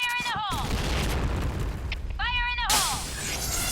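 An explosion in a StarCraft II match sounds as a booming burst under busy in-game effects, with a rising-and-falling chirping unit sound before and after and a commentator talking throughout.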